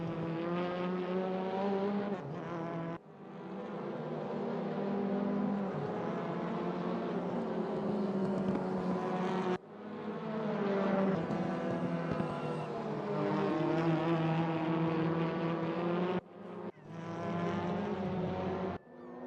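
Touring cars lapping Zandvoort in a sim racing game, engines droning loudly and continuously with rising and falling revs through gear changes, a few abrupt cuts between cars, no talk.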